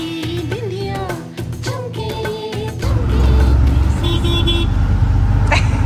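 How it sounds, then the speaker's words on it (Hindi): Road traffic heard from inside an auto rickshaw in Delhi, with a steady engine and road rumble that grows louder midway, short car horn toots scattered throughout, and the dense hum of surrounding vehicles close by. "ऑटो रिक्शा में 20 की स्पीड भी ऐसा लगता है कि गाड़ी पे 60-70 की स्पीड चल रही हो"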